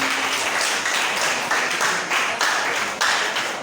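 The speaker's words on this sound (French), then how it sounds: "Ça s'applaudit." A crowd applauds steadily after a folk group performs at a student talent night at ENSBBA. The dense clapping is sustained and fairly loud throughout, with a few sharper surges and no voices over it.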